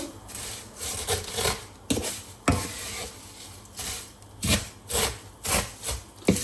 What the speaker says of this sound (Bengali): এটাকে হচ্ছে ভালো করে ঘির সাথে ভাজবো একদম ব্রাউন ব্রাউন একটা কালার না আসা পর্যন্ত